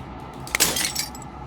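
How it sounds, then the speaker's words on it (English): Glass shatters in the video game Slay the Princess: a single bright, crisp breaking burst with ringing, tinkling fragments that fades quickly over a faint background. "As the final fragment of glass chatters"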